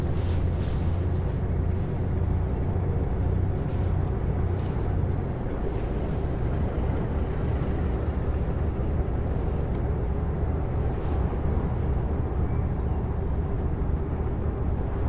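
A truck in a truck driving video game brakes hard: a loud, continuous engine drone with a hissing air-brake burst near the start, steady throughout and with no talking.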